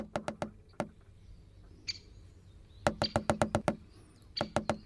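A woodpecker drums on wood in rapid, evenly spaced bursts of four to seven strikes, close and sharp, with a faint bird call in one gap.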